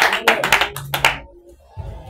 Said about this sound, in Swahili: Tupigie tu Mungu makofi jamii